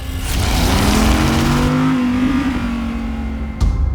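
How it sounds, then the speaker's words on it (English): A car engine roars loudly and steadily, revving as it speeds past, then cuts off abruptly near the end. "you might think about the sound of a roaring engine"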